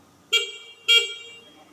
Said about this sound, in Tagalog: So, pakinggan natin yung busina.